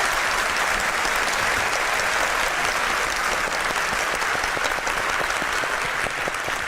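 A packed hall audience claps loudly and continuously throughout at a Turkish talk event, a dense, even roar of applause with no pauses or speech.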